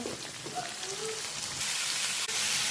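Potatoes and drumsticks sautéing in a pan, a soft, even sizzle with faint stirring noises, fairly quiet and close, rising a little toward the end with one brief knock.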